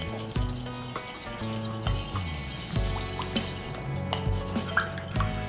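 Minced garlic and lemon juice stirred in a bowl with salt and pepper, heard as a run of close, sharp clinks and scrapes of utensil against the bowl in an uneven rhythm.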